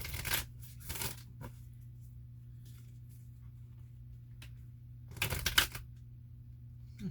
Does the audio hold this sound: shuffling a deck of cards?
yes